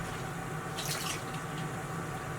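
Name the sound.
running tap water for a detergent mix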